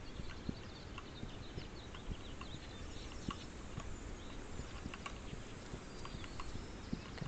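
Hooves clip-clop steadily from a horse in the video game This Land Is My Land, faint and fairly distant over a soft outdoor ambience, with scattered light ticks and bird-like chirps.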